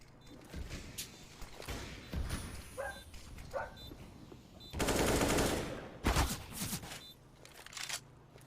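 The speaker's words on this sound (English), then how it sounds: "right now, there's a firefight on B, and both teams have traded a player" Rapid automatic gunfire from a Counter-Strike firefight on the Overpass map, with scattered shots and a dense, loud burst in the middle followed by a few sharp reports, over background game noise.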